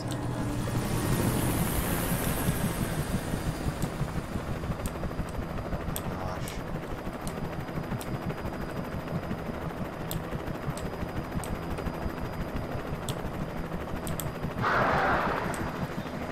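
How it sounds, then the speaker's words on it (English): A helicopter in the video game Alan Wake drones with a steady rotor hum while birds attack it, sharp intermittent clicks and bursts punctuating the continuous whir, ending in a brief louder rushing swell. "birds are attacking the helicopter. The birds just took down a helicopter."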